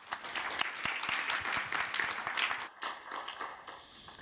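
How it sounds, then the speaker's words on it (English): A conference audience at a computer graphics event claps to welcome a presenter, dense applause that swells, then drops off sharply partway through and trails into scattered claps with a faint hum. "big applause for Thanos"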